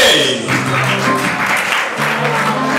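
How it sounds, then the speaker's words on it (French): Applause at a school awards gala honouring a student, steady and fairly loud crowd clapping with a voice or music tones running underneath. "Et il mérite d'être applaudi, mesdames et messieurs."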